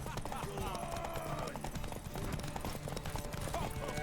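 Steady clip-clop of horse hooves trotting in a rhythmic pattern in the video game The Witcher 3, with a voice talking over it.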